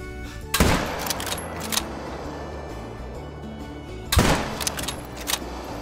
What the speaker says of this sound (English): Get a shot out with the pistol